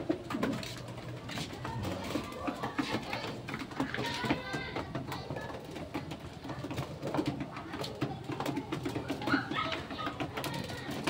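Pigeons cooing in a flock amid feeding, with overlapping soft coos and scattered bird calls throughout, fairly close and steady, with some rustling and faint background voices.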